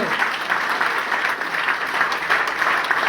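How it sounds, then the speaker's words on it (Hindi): An audience applauding loudly, a dense continuous patter of many hands clapping throughout, steady and close. "खड़े हो जाओ साहब, खड़े हो जाओ, ताली बजाओ जोरदार"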